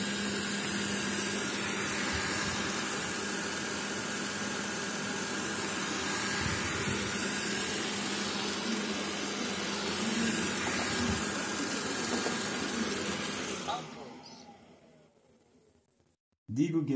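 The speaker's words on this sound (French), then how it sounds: "Dis Google, démarre l'aspirateur." A Xiaomi Roborock S50 robot vacuum cleaner runs indoors with a steady, moderately quiet whirring hum and airy suction noise that holds for several seconds, then winds down and falls silent before a brief click at the end.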